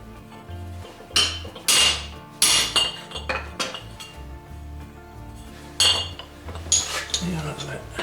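Hammer striking a metal exhaust baffle on a workbench, a series of sharp metallic clanks in uneven rhythm, close and clear, with faint talk in between.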